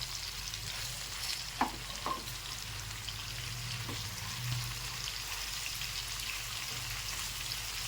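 Chicken pieces frying on a full flame, a constant crackling sizzle like rain, with a couple of brief clinks from turning the pieces, close and even, no talking.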